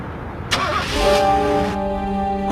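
A car engine cranks and catches with a sharp burst, then settles into a steady idle hum, loud and close, with no voices over it.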